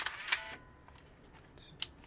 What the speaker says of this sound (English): Shutter sound like this.